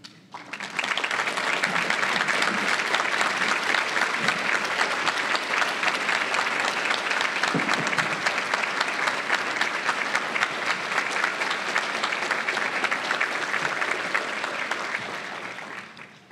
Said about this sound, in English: our students to please give them a round of applause and thank them for their service